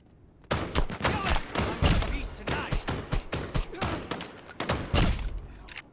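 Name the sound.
shotgun fire in the Lost Light video game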